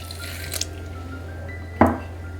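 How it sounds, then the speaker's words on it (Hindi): A little water goes into a bowl of methi paratha ingredients with egg and spices: a faint early trickle, then one short close splash over a steady low kitchen hum. "बिल्कुल थोड़ा सा पानी"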